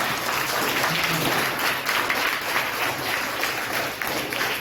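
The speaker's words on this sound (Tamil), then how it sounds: "அவங்களுக்கு ஒரு சிறப்பான கைத்தட்டல் கொடுக்கணும்" Sustained applause from an audience at a speech competition, dense steady clapping filling the whole stretch without a break.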